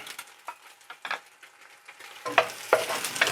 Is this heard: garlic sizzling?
yes